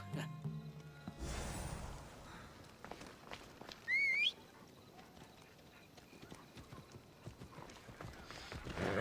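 Horse hooves clip-clop at a steady walking pace in an Assassin's Creed game set in ancient Greece, near and clear, with a brief whistle partway through.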